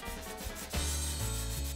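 Hand sanding on an old wooden hutch about a century old, a dry rasping scrub that starts lighter and then turns louder and steadier, continuous strokes close up with no talking.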